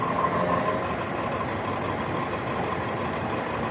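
A Hino RK tour bus engine idles in a parking lot near Gunung Tidar, a steady, moderately loud diesel rumble that continues without a break and with no one speaking.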